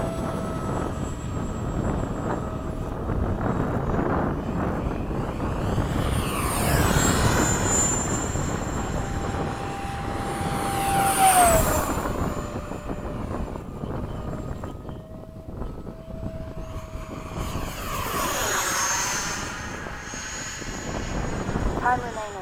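Freewing 70mm F-35 RC model jet flying at an Oakdale field, its ducted-fan whine rising and falling as it makes passes, mostly steady and moderately loud with people talking over it.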